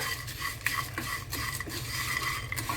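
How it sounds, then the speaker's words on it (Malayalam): Cornflakes stirred into a sweet mixture with ghee in a pan, a steady scraping and rustling as a spoon turns the flakes, with light metallic knocks against the pan and no talking. "കോൺ ഫ്ലേക്സ് ഇട്ടിട്ട് ജസ്റ്റ് ഒന്ന് ഇങ്ങനെ ഇളക്കിയെടുക്കുക"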